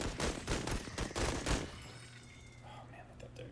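A rapid burst of gunfire in the video game Menace, several loud cracking shots in quick succession for about a second and a half, then fading into a low game hum with faint talk.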